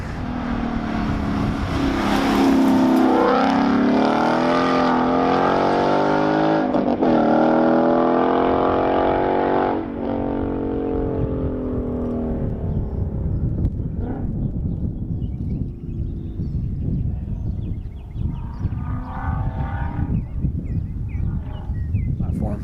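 A Ford with Ford Racing Borla mufflers pulls hard on a side street, its exhaust rising steadily in pitch through two loud, close acceleration runs before settling into a lower rumble.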